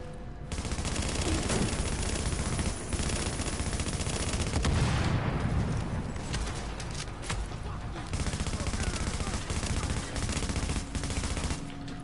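Sustained automatic fire from an auto rifle in The Division, with rapid continuous shots that are loud and close, running almost unbroken and barely pausing for the whole stretch.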